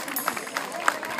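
A crowd at an outdoor Eucharistic festival in a park claps for an image of Our Lady of Hope, a brief burst of scattered handclaps beneath a voice speaking over it.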